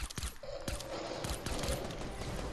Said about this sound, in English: I'm shooting him with a pistol.